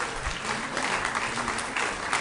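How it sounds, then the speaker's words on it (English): A room full of people claps together in warm, sustained applause at a Sunday morning recovery meeting workshop, an even wash of hand claps with no single voice standing out. "And I'll take applause wherever I can get them."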